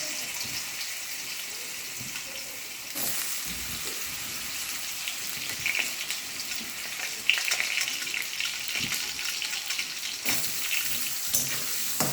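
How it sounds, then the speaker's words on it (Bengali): Chopped potatoes fry in hot oil tempered with black cumin in a wok, giving a steady close sizzle with occasional stirring scrapes and small bursts throughout. "এখানে আমি একটু আলু কুচিয়ে রেখে ছোট ছোট পিস করে কেটে রেখেছি, এটা দিয়ে ভেজে তুলে দেব"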